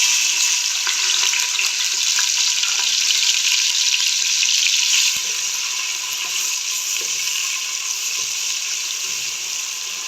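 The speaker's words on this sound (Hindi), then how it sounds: "ऑयल गर्म हो चुके, अब इसमें मैं डाल दूँगी प्याज।" A steady, loud sizzle of onions frying in hot oil, a continuous hiss that eases slightly halfway through.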